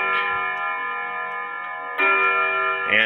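An Urgos 32/1A Westminster chime movement from a Ridgeway grandfather clock strikes its rod chimes, sustained ringing tones that hang in the air, renewed by fresh strikes about two seconds and three seconds in, close and clear.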